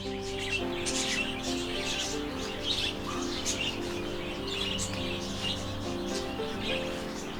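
Finches and small quails chirp and twitter steadily in an outdoor aviary, many overlapping calls close by, with a continuous low hum underneath.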